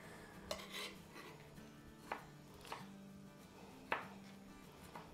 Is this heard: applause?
no